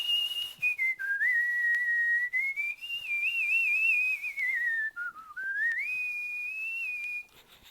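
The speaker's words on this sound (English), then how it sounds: "I could whistle like a songbird." A person whistles a long, continuous, wavering melody, loud and close, alone without talking, and stops just before the end.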